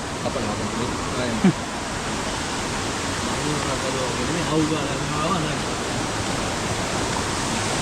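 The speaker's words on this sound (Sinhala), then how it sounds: "මේ එන වතුර පාර බඹර කන්ද දියැල්ලෙන් වැටිලා යන වතුර පාර තමයි මෙතනින් මේ යන්නේ" Water from Bambarakanda waterfall in Sri Lanka rushes past in a constant broadband roar, steady and fairly loud, with faint voices briefly audible beneath it.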